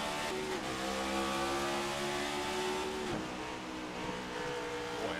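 A NORA race car's engine revs hard in onboard audio at Iowa, holding a steady high-pitched drone that jumps briefly around a gear shift and then rises again.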